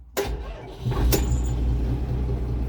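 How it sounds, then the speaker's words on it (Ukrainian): An Iseki 8020 tractor engine cranks and catches, then settles into a low, muffled idle heard from inside the enclosed cab. "Це завівся трактор."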